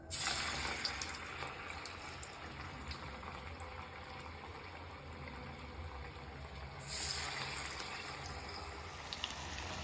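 Bengal gram vada pressed flat and dropped into hot oil, frying with a steady close hiss and crackle that swells again partway through, no voices.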